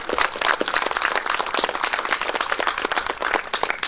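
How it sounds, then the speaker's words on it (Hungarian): Audience applause at the inauguration of a renovated Catholic chapel in Csetény, a dense, steady crowd clapping that fills the whole stretch at even loudness. "Egy tapsot megérdemelnek szerintem."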